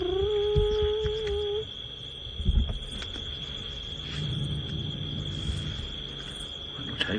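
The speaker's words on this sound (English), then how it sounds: "All you can hear really are some crickets." Crickets chirp steadily through the night air on a sunset safari drive, a thin continuous trill with a low rumble of vehicle or wind beneath and a brief bump partway through.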